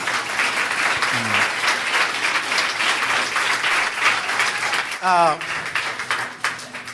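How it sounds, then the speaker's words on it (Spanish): A church congregation claps together in sustained, even applause, with a voice calling out over it midway through before the clapping carries on. "Un aplauso por Cristo Jesús"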